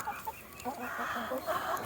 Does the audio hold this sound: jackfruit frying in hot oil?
no